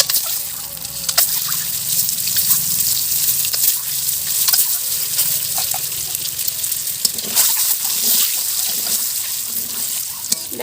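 Eggs fry in hot oil with salt and turmeric in a kadai, a loud continuous sizzle with sharp crackling pops and spatters, close up and steady throughout.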